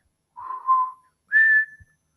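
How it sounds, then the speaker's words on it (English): A person whistles two clear tones in a quiet room, a short wavering lower note followed by a higher steady one, each under a second, close and alone. "I whistle, like,"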